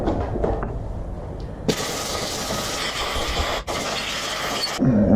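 Compressed air blasts in a loud, steady hiss to dry a freshly rinsed Harley-Davidson Electra Glide front brake caliper, cutting out briefly for a moment before resuming close to the mic.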